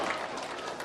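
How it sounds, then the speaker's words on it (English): Applause at a Free Kick Easter Invitational football tournament in St. Lucia for the third-place team, a dense steady wash of clapping from a crowd, brief and moderately loud. "Round of applause for Beaufort South and themselves a fine tournament."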